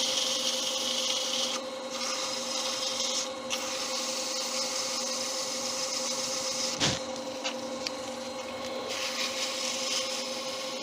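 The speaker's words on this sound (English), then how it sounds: "And again, quick sanding." Abrasive sanding rasps steadily against a spinning wood-turned piece on a lathe, a continuous close hiss over the motor's hum, with a brief sharp knock midway.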